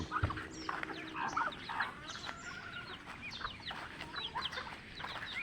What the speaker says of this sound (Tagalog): dami dito ng mga pato, mga manok, mga duckling, ayan, mga sisiw